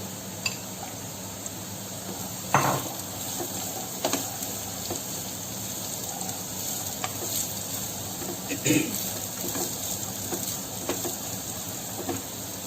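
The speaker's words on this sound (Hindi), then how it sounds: "अब हम इसमें अपना बीटरूट डालेंगे" Beetroot with garlic fries in a pan for beetroot sabzi, a steady soft sizzle with a few sharp clinks of a spoon against the pan now and then.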